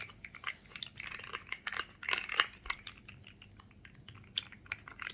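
Gum being chewed close up, a run of soft, wet, irregular mouth clicks and smacks scattered through the clip with no talk.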